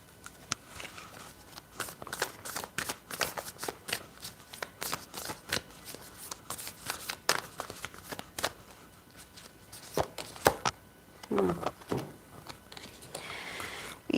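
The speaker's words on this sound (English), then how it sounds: "I'm going to pull an extra card from the Oracle" Oracle cards are shuffled and drawn during a live reading, making a steady stream of close, crisp riffling and flicking with no talking.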